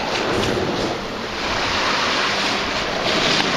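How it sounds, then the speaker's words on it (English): Rough waves churn in a bay, a steady loud wash of surf and water noise with wind buffeting the microphone, continuous and close with no talking. "And waves are terrible."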